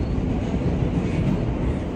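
Steady low rumble of a subway train in motion, a constant roaring drone with no clear breaks and no talking.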